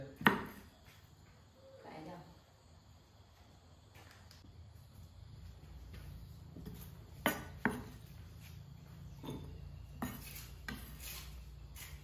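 Bowls and plates set down in a kitchen, a few sharp ceramic clinks and knocks scattered over a quiet room tone, with faint cutlery rattles in between.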